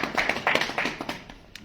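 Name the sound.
audience clapping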